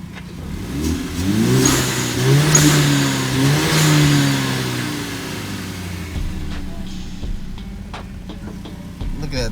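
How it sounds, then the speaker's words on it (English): A Hyundai Genesis Coupe engine revs up and falls back several times nearby, rising and dropping in pitch, followed by quieter ticking and clicks as a voice speaks briefly underneath. "Let's hear that blow valve."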